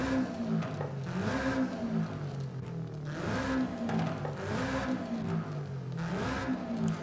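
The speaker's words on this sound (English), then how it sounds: "let's go and listen to how it sounds with the turbo and the supercharger" Forza Horizon 5 Toyota 86 / Subaru BRZ / Scion FR-S fitted with turbo and supercharger, engine revving in repeated rising and falling surges, about four pulls, moderately quiet and steady.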